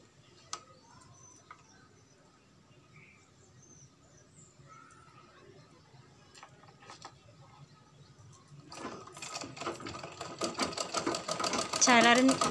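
A child runs a sewing machine to stitch a fabric face mask; after a long quiet stretch with soft ticks and background sounds, the rapid mechanical stitching rattle starts up close and grows louder near the end.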